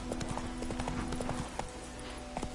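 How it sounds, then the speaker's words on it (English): Roach, a horse in The Witcher 3 video game, gallops with rapid rhythmic hoof clip-clops, close and steady, with a brief faint snort. "Run, Roach."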